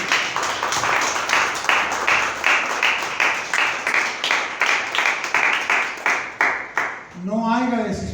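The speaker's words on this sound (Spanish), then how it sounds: "Denle un aplauso a Cristo" A church congregation applauds steadily, with a long run of even, rhythmic clapping that stops abruptly near the end as a voice begins speaking.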